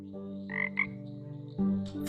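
Frogs croak in the cozy farming and crafting video game Kamairu, a few short bright calls over a soft layered musical backdrop.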